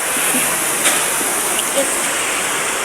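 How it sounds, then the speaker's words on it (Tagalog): Steady rain falls outdoors at a school, a continuous even hiss that fills the whole short stretch without pause, close and fairly loud, with faint voices barely present beneath it. "At sa umuulan."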